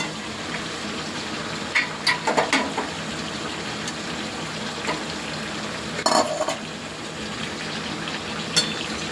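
Fish head frying in hot oil in a pan, a steady low sizzle with scattered clinks and scrapes of a utensil against the cookware.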